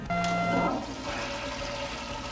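An automatic toilet in an elementary school flushing, a loud rushing gurgle of water that starts abruptly under a brief electronic tone, then settles into a softer draining swirl, no talking.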